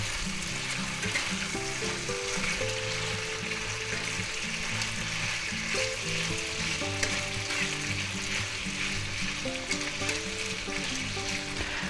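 Pork seasoned with salt, pepper and garlic powder stir-frying for sweet and sour pork, a loud continuous sizzle with steady stirring scrapes throughout, no talk.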